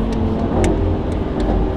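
A Lamborghini Aventador Ultimae roars while accelerating on an open road, a loud, dense engine drone heard close from inside the car, with brief higher crackles over the sustained rumble.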